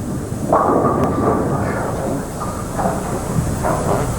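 A bowling ball rolls down the lane at the 1991 Showboat Senior Invitational, a loud, continuous rumbling roll with a sustained hum, close and steady for several seconds.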